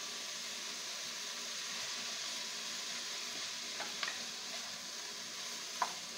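Shredded boiled chicken goes into a pan of sautéing onions for Filipino chicken noodle soup, giving a steady, even sizzle with a few light clicks and taps near the end.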